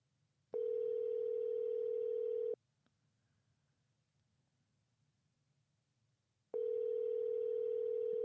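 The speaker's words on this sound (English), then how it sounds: "See if he'll answer the phone." A phone call rings out on the caller's end: two steady, even ringback tones about two seconds long, separated by a long silent gap, with no talk.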